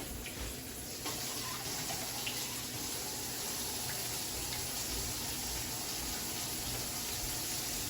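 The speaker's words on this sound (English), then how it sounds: "And then, you know, add a little water." Tap water runs steadily into a pot of beans sitting on a kitchen stove, a continuous close gushing and splashing stream that holds at an even level throughout, with no voices.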